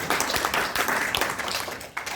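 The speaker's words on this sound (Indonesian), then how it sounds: "Berikan tepuk tangan." Audience applause at an Indonesian business presentation for EA50: steady dense clapping from a crowd that runs throughout, fairly loud and even, fading slightly near the end.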